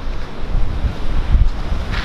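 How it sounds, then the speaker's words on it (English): Big ocean waves breaking on a Hawaii shore, a steady loud low rumble of surf mixed with wind buffeting the microphone, continuous throughout with no talk. "Some big waves, huh?"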